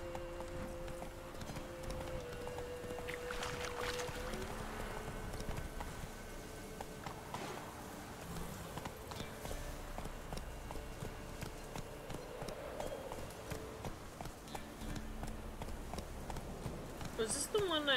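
A horse gallops in The Witcher 3 video game, its hooves giving a steady quiet clip-clop that runs through the whole clip. Someone talks over the hoofbeats, and game sounds and music stay low underneath.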